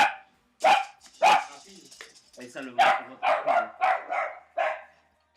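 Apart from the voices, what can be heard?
dogs barking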